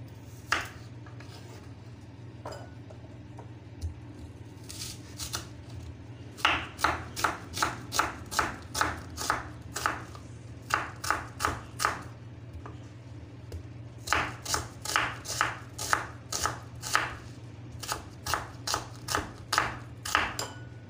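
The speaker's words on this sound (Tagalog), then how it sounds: "At maghihiwa na po tayo ng ating mga sangkap" Onion and garlic are chopped on a board, bursts of quick sharp knife taps in steady rhythmic runs with short pauses between, close and fairly quiet over a low background hum.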